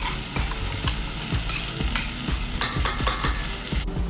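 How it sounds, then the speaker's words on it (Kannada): Ground masala for tomato sambar fries in a little oil, sizzling steadily while a spoon stirs and scrapes the pan in repeated clinks and taps, close and clear, with no voices. "ಮಸಾಲೆ ಸ್ವಲ್ಪ ಎಣ್ಣೆನಲ್ಲಿ ಫ್ರೈ ಆಗಬೇಕು."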